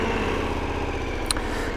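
A 2022 KTM Super Adventure R motorcycle engine runs close by at a steady, dense rumble, with one brief sharp blip near the end and no talk.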